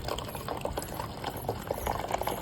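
A thin stream of water pouring and splashing continuously, quiet and close, with no voices.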